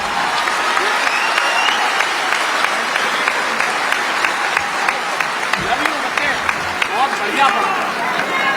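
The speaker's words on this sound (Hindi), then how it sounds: "क्या बढ़िया तालियां बजे" Thunderous applause from a large crowd at a Hindi poetry gathering, a loud, continuous roar of clapping that holds steady throughout, with voices faintly mixed in.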